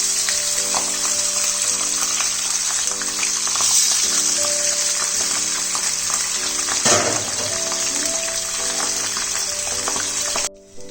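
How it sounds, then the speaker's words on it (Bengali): Pabda fish marinated in salt and turmeric frying in hot oil, a loud continuous close sizzle with a steady hum and a brief burst of spattering partway through before it cuts off. "মাছগুলোকে নুন আর হলুদ দিয়ে ম্যারিনেট করে আমি তেলে ফ্রাই করার জন্য দিয়ে দেবো"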